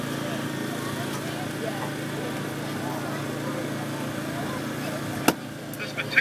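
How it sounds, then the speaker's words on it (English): Hydraulic rescue jaws cut through the body of an older car during a fire brigade extrication demo at a school gala. A steady, engine-like hum from the power unit runs throughout, with a sharp crack near the end and faint voices in the background. "This particular vehicle is of an earlier construction and particularly easy to cut through with the jaws."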